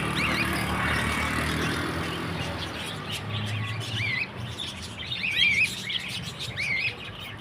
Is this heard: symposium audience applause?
no